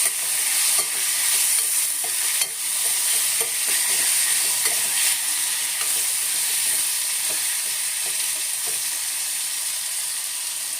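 Tomatoes frying in hot oil with turmeric and asafoetida, a continuous close sizzle broken by repeated scraping stirs of a spoon against the pan.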